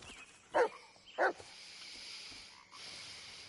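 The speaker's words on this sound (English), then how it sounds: "Listen to my dog." Two short barks from a dog in the Blair Witch video game ring out a half second apart, fairly close, over a quiet ambient background.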